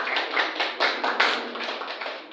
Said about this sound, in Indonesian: Berikan tepuk tangan untuk kelompok